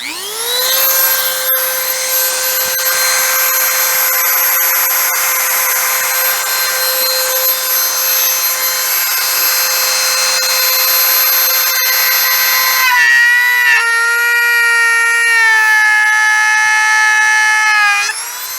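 A Dremel rotary tool fitted with a router bit runs with a loud, steady, high-pitched motor whine that shifts lower partway through and then holds, with no talking.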